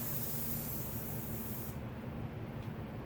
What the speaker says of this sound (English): Go ahead and spray it.